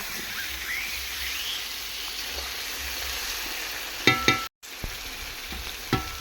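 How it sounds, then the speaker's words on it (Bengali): Potatoes fry in a pan with a continuous hissing sizzle. A few sharp clicks and knocks come near the end. "ওইদিকে আলু ভাজা হচ্ছে ঠিক আছে দেখো আলুটা ভেজে নিচ্ছে মা"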